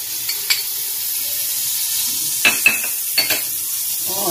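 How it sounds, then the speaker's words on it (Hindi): Butter melts in a cooking pot with a soft, continuous sizzle, and a few brief clinks and stirring scrapes come in near the middle and end. "सबसे पहले मैं इसमें डालूंगी मक्खन"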